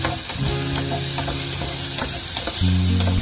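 Cooking wine hisses and sizzles in a hot pan of pork trotter and dried oysters, a steady loud fry with a low electric hum and light stirring clicks throughout.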